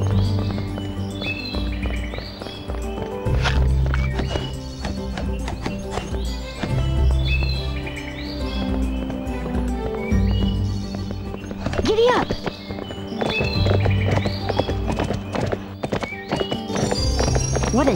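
Galloping horse hooves in Barbie Horse Adventures: Wild Horse Rescue on PS2, a steady clip-clop rhythm running throughout under game music, with occasional whinnies and birdsong from a dense forest setting.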